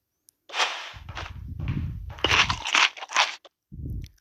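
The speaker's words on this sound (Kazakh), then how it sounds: "Ал енді мен осы шоколадымды жеймін." Homemade chocolate being bitten and chewed up close, with loud crisp crunches in irregular bursts over about four seconds, short pauses between bites, and no talking.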